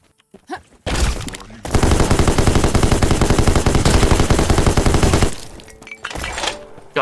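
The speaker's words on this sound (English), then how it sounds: "take the volley of bullets like this" A monster in the video game Black Skyland lets loose a dense volley of rapid gunfire, a loud sustained burst of chattering shots lasting several seconds between a few isolated thuds.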